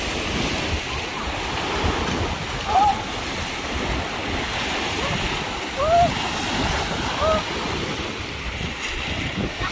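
Sea waves wash steadily onto a beach in Busan, mixed with heavy wind buffeting the microphone, with a few brief high calls or voices faintly audible in the background.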